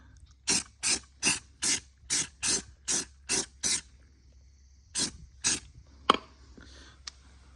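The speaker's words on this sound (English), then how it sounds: "I should be able to just spray the bed liner on now" Short bursts of bed liner spraying from an aerosol can hiss in a steady rhythm, about ten quick sprays, then a pause and a few more scattered bursts, close by.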